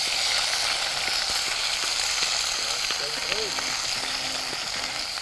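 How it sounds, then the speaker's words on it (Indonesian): Ground spice paste fries in hot oil in a wok, giving a steady bright sizzle throughout, with faint voices murmuring in the background. "masukkan bumbu yang telah dihaluskan ke dalam minyak panas di penggorengan dan tumis hingga"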